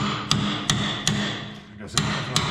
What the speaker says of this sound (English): Get a chisel up in there.